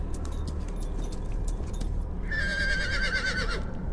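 A horse sound effect plays during a Dungeons & Dragons 5e tabletop session: light jingling and hoof clatter, then a loud, quavering whinny of about a second, heard over a constant background hiss without talk.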